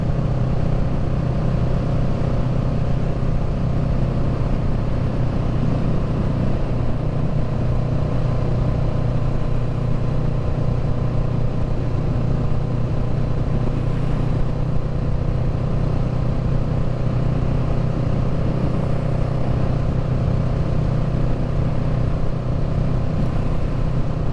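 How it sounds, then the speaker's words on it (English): A motorcycle engine idles steadily on a roadside during a ride, a loud, continuous low rumble with a constant throbbing drone and no change in pace throughout. "let you guys look at the bike, listen to the bike for a little bit"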